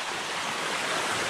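Water at Fikong Falls flowing over solid rock, a steady broadband rushing wash, close and continuous with no voices.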